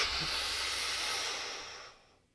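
A long, steady breath pushed out through the mouth, a broad airy rush lasting nearly two seconds before trailing off into quiet.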